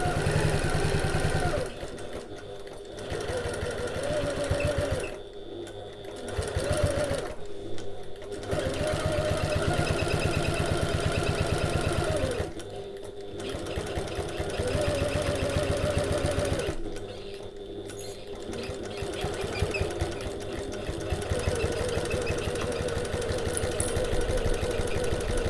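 A sewing machine stitches a long construction seam in steady, rapid bursts, whirring close and loud for several seconds at a time with short pauses between runs.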